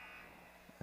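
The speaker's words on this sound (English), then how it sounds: "you can hear the buzzer going off from soccer over there on the other field" A distant electronic buzzer from a soccer field drones steadily in the background, faint and continuous, with a couple of brief louder knocks near the end.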